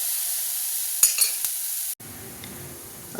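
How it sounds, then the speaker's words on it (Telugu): A ladle stirs roasted, washed moong dal with turmeric in a pan, making a few brief scraping strokes over a faint sizzle before the sound cuts off. "మనం వేగించి కడిగి పెట్టుకున్న పెసరపప్పును కూడా ఇందులో వేసుకుని ఒకసారి అంతా కలిసేలాగా గరిటెతో కలుపుకోవాలి"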